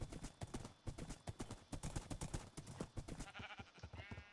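Hooves of two small horses in the Minecraft video game clip-clop in a steady, fairly loud rhythm, with a brief synthetic whinny-like tone near the end.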